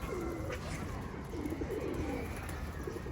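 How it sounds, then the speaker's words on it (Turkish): Pigeons coo softly in a loft, low repeated throaty calls close by over a steady background hum, with a few faint higher chirps. "Maşallah kuşların keyfi yerinde."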